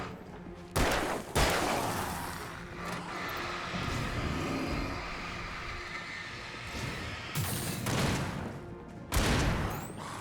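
Gunshots in the video game Alan Wake ring out as several sharp, loud blasts spaced across a dense, noisy game soundscape, with a short burst near the start and more heavy reports toward the end.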